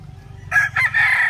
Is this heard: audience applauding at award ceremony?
no